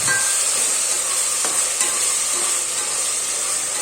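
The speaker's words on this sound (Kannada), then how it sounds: "ಟೊಮೊಟೊ, ಈರುಳ್ಳಿ, ಟೊಮೊಟೊ ಚೆನ್ನಾಗಿ ಫ್ರೈ ಮಾಡ್ಕೋಬೇಕು ಎಣ್ಣೆಯಲ್ಲಿ." Tomatoes and onions frying in oil, a loud continuous sizzle filling the whole stretch, with a few faint scraping stirs against the pan and no talking.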